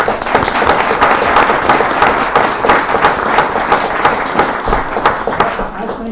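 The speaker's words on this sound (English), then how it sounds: "let me give you a round of applause for this" Audience at a city council meeting applauding, a dense sustained burst of clapping from many hands that carries steadily throughout before thinning slightly at the end.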